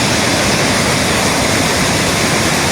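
Steady, loud, close roar of a flooded waterfall at Pollur in Alluri district, swollen after heavy rains, a dense unbroken rush of water with no voices over it.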